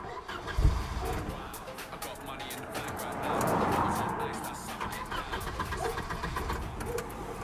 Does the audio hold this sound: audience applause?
no